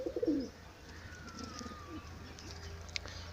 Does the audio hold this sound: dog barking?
no